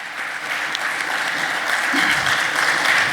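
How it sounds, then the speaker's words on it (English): Audience applause for a guest of honour at a lecture event, a steady, dense wash of many hands clapping that holds evenly and swells slightly toward the end, with no talking over it. "A huge round of applause to Shiv"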